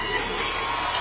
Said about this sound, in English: Mendoza provides a big round of applause as he gets his medal.